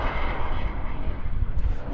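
A jet-powered Pitts aerobatic biplane with a propeller roars steadily at an airshow, a loud, continuous broadband engine noise with no pauses.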